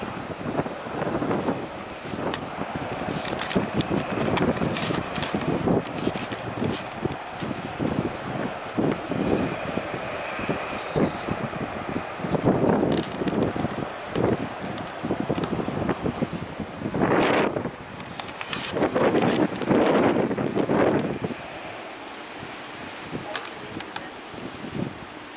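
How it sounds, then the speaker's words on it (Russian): Wind blows steadily outdoors in Kazan beside a moored boat, buffeting the microphone with a constant close rumble that swells into stronger gusts near the end before easing off. "здесь ветер"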